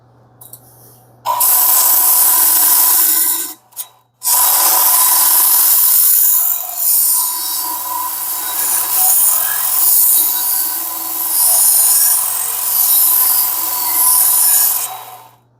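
Belt grinder run upside down on its platen side sharpening a small hewing axe, a loud continuous abrasive rasp that holds steady for over ten seconds with a brief break partway through.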